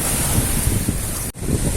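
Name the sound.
strong wind at the seashore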